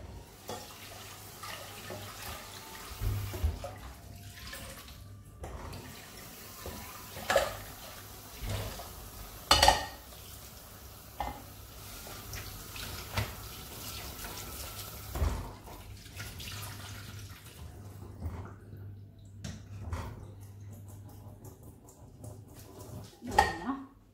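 Rice in a pot is rinsed with cold water, with running water, sloshing and scattered clanks of the pot and utensils over about twenty-four seconds, close by. A voice speaks intermittently.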